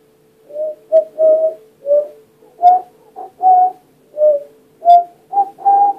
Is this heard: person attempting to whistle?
yes